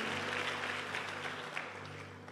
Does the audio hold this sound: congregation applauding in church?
yes